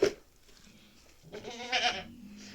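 Goats bleating on a small farm: a brief sharp cry at the start, then after a quiet pause a loud wavering bleat that swells and fades, heard nearby without speech.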